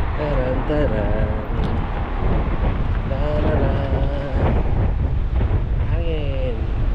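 Strong wind roars against a microphone outdoors at Clisson Park, a constant loud rumble, with people talking over it throughout.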